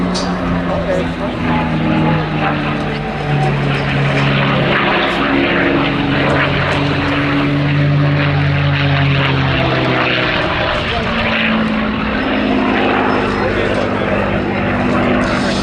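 A Mustang fighter's piston propeller engine during an airshow flying display at Little Gransden, a loud, continuous droning roar with shifting pitch as the aircraft passes, heard under a commentator's talking throughout.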